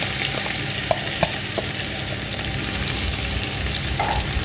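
Ginger and garlic sizzle loudly in a pot of onions and whole spices for khichuri, a dense, constant frying hiss up close with a few small clinks.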